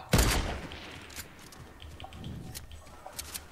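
A single sharp gunshot in Fortnite cracks out loud at the start, then a few faint scattered pops and clicks follow under quiet game ambience.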